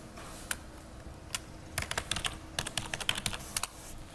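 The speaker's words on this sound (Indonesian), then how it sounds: "Username yang diberikan adalah admin, kemudian passwordnya kita ketikkan." Typing a password on a computer keyboard during a router login, with a few isolated key taps and then a quick burst of close clicking keystrokes in a quiet room.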